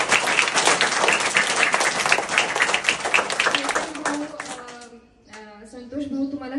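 Loud applause from an audience at a community event, dense and sustained for several seconds before fading, with a voice beginning to speak near the end.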